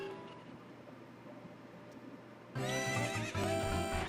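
A horse in the video game Zelda: Ocarina of Time lets out a loud, bright neigh that bursts in midway through after quiet game ambience and continues to the end.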